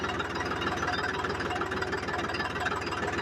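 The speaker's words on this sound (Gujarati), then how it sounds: "ટ્રેક્ટર દોડવા આવ્યું છે." A new tractor engine runs steadily close by, a continuous low, knocking diesel rumble with an even rhythm and no voices over it.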